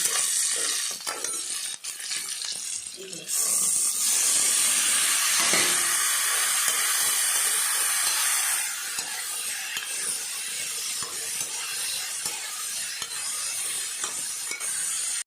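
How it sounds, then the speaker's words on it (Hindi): Tomatoes, five or six of them, go into a hot pan and sizzle steadily while being stirred, a loud continuous hiss with scraping, no voices. "अब मैं इसमें टमाटर डालने जा रही हूँ।"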